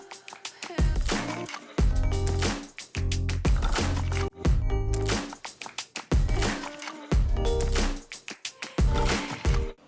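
A Shovelhead chopper cylinder being honed on a mandrel with rough hone stones produces repeated one-second bursts of close, harsh grinding whir, separated by short pauses, with no talking.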